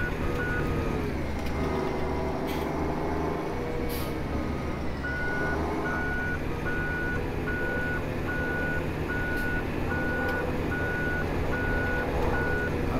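Truck reversing beeps in the farming game Farming Simulator 17 while trailers are moved, a steady evenly spaced series of beeps over a constant engine rumble and background hum, with no talking.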